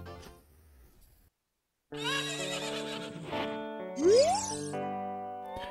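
A horse in the Zelda: Ocarina of Time video game lets out a single rising whinny near the middle, set against sustained game music with no talk.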